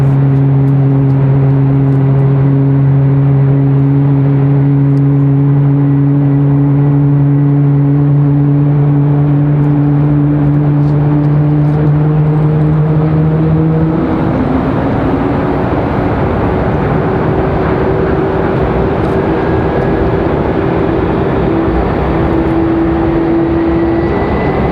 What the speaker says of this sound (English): So we got the Mad Max firing up down there. You can hear those angry Max engines.